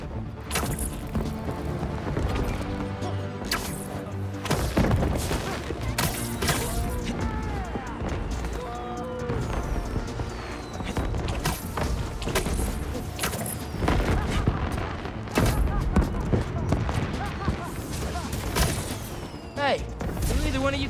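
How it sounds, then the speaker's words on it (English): Fireworks bursting in Spider-Man 2, a long run of loud booms and crackling pops that repeat at irregular intervals, heard beneath game music and voices talking. "I knew those fireworks looked shady."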